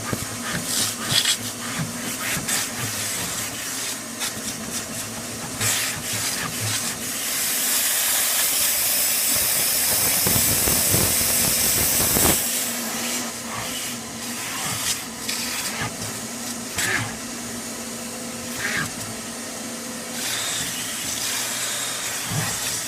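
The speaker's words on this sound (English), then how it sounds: "I want to finish it by just using the vacuum" Vacuum attachment drawing over a dirty car seat cushion after steam extraction, a steady close hissing suction that rises to a harsher roar midway, then settles back with scraping and bumping of the nozzle.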